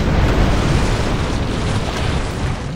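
Cannon fire from ships in the pirate naval game Tempest: a sustained, loud, rumbling barrage of booms blending into one continuous roar that holds steady and eases off slightly at the end.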